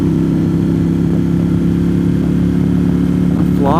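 Small engine paired with a CVT transmission pulls a vehicle up a mountain road, holding a steady loud droning hum with no pauses and a slight rise in pitch near the end.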